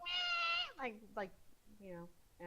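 In a name-that-sound game, a cat meows several times in drawn-out, wavering cries, with people talking around it.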